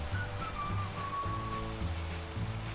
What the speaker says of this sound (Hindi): ये बार बार बारिश क्यों हो रहा है यहाँ पे?